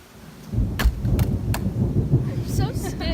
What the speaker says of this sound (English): Or Is it the thunder?